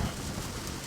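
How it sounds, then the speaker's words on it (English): Rain falling outside during flooding weather, a brief, dense, steady wash of hiss with a low rumble underneath, fairly loud and with no voices. "Guys, check out this rain."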